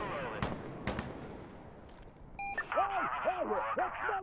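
Gunfire from the video game Insurgency: Sandstorm, with a couple of sharp shots early on, then a run of electronic beeps and warbling tones, all fairly faint.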